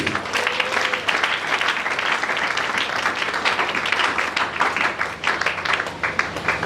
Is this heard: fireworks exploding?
no